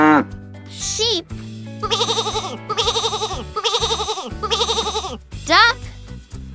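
A sheep bleats in four quick, wavering calls in a row, loud and close, set against light background music with short whistle-like effects before and after.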